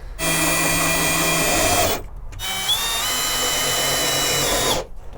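A power drill whines loudly and steadily while driving screws to mount a 12V air conditioner on the back of a van, stopping briefly after about two seconds and then running again in a long second burst.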